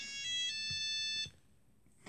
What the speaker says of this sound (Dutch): Oh, ik word gebeld.